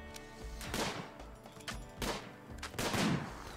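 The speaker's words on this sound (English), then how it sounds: "He got spooked by the shot landing near him." Several gunshots from the RimWorld video game crack out in separate bursts across a few seconds, loud and sharp, with no talk over them.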